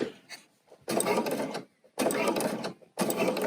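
Bernina sewing machine with a pleating accessory stitches fabric in three steady bursts of rapid mechanical whirring, separated by brief pauses, close and clear.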